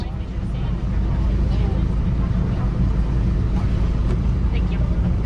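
Someone's 2021 Subaru WRX exhaust rumbling at a steady, loud idle in a car-meet exhaust competition, a continuous deep drone with people talking over it.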